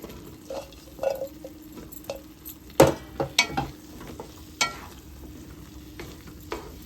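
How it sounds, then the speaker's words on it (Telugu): Drumsticks cooking in masala in a pan for a catering-style drumstick and cashew curry, a low simmer and sizzle with irregular stirring scrapes and clanks, one louder clatter, no talking. "ఇలాగ ఈ మసాలా ఇలాగ మగ్గుతున్నప్పుడే మనం ములక్కాయలు వేసుకోవాలి"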